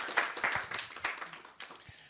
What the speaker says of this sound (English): Please give her a huge round of applause for Ms.